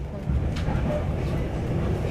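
A train rumbles steadily along with a deep, continuous rolling drone and faint rattles, heard from on board a scenic railway from Dunedin to the Taieri Gorge.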